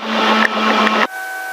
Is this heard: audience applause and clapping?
no